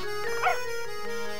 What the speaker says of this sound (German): Da ist dieser Hund, aber warum?